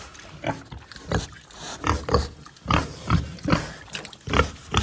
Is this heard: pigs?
yes